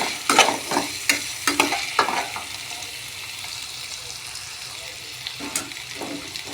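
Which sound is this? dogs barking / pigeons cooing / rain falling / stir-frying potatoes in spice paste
stir-frying potatoes in spice paste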